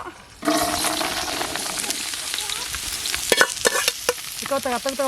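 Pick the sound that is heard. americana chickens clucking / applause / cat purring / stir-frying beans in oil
stir-frying beans in oil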